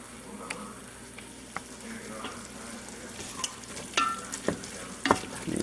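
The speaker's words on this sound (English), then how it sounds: "Stir that all up in there with that sausage." Sausage being stirred in a pot of gumbo, with a steady sizzling bed broken by scraping spoon strokes and a few sharper clinks against the pot toward the end, close by and without talk.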